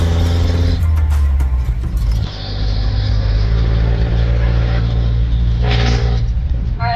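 A jeepney engine drones steadily from inside the vehicle while riding in the Philippines, a loud continuous low rumble with road noise and a brief clatter partway through.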